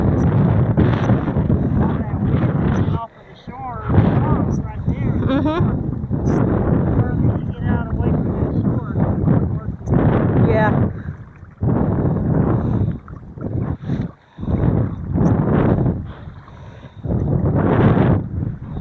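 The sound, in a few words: strong gale wind while kayaking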